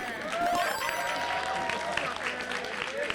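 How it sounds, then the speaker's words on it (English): Crowd applause at a Classic Tetris World Championship match, a dense steady clapping from the audience with commentators talking over it. "A round of applause for standing."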